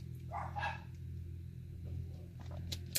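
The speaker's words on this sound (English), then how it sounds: "you can hear my dogs in the back" Faint, distant dog barks sound briefly over a steady low rumble of background noise.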